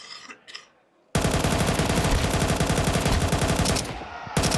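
Rapid automatic rifle fire sprays through smoke in a professional Counter-Strike match, where Vitality play Legacy at IEM Dallas 2025. It comes as one loud, continuous stuttering burst after a brief quiet start, cuts off briefly, then resumes.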